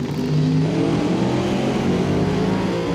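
A Pro Mod drag race car building boost and launching down the strip at a Doorwarz drag racing event, its engine a loud, continuous roar with a steady heavy drone held close throughout.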